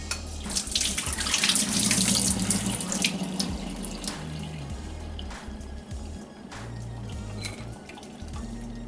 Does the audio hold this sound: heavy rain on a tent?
no